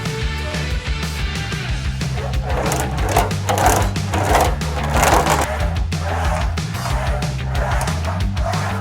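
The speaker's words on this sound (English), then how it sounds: "I need to wheel this to stretch it out so it kind of relaxes up." Steady metallic rolling and rumbling of an English wheel stretching a steel car body panel, with a continuous low hum and repeated scraping passes, fairly close and loud throughout.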